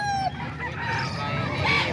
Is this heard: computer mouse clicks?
no